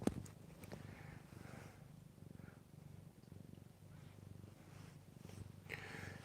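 An old cat purrs close up in a low, steady, rhythmic rumble that continues without pause, with faint breathy snorts now and then.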